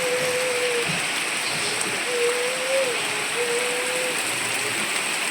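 Heavy rain pours beside a house in a steady, even wash of noise, with a faint tone rising and falling now and then above it.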